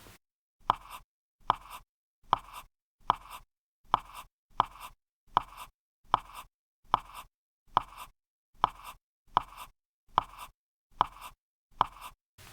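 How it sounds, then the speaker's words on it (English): A pen draws measure lines on a blank sheet of paper for a guitar chord chart, making crisp scratchy strokes close by. The strokes come in a steady, even rhythm of about fifteen across the stretch, with no talking. "I create measures on a blank piece of paper that look something like this."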